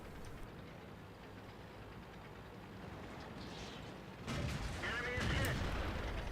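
A tank in World of Tanks takes shell hits: a low rumbling battle drone builds into a louder impact and crackle of strikes near the end, with a voice talking over it.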